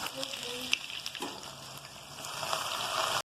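Ginger garlic paste fries in oil in a karahi, giving a close, continuous crackling sizzle with light stirring clatter.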